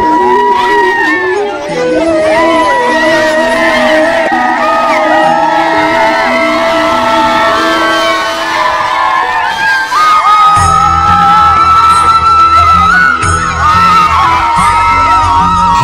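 Schoolchildren at a school cabinet election in Lakshmani village, Miraj taluka, Sangli district, cheering and shouting together in a loud, continuous crowd roar, with a voice speaking over it.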